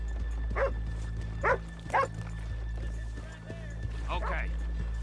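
Horses in the Red Dead Redemption II game, heard as a few short hoof and snorting bursts over a steady low background hum, with a dog-like yelp and characters talking around them.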